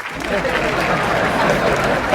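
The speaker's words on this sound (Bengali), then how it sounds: "একটা জোরে হাততালি।" Loud, steady applause from a comedy show audience, dense clapping filling the room for about two seconds with crowd noise mixed in.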